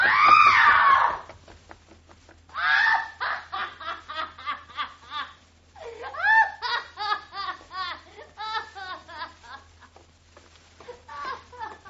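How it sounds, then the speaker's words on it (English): A woman in a Jack the Ripper crime radio drama lets out a sharp shriek, followed by a run of rapid, breathy, sobbing-like vocal bursts that rise and fall, heard alone without other talk. "She screamed."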